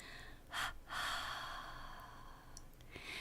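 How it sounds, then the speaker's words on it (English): Soft double exhale during a guided breathing meditation: two short, close, breathy puffs of air in quick succession, followed by a longer gentle outward breath, quiet throughout and with no talk. "And then a double breath out, quite softly."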